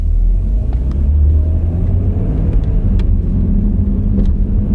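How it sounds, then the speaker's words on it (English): A car rumbles low and steady while pulling away slowly, with faint irregular rattling clicks underneath like a machine gun going off under the car, close and continuous. "it's like a machine gun going off under the car"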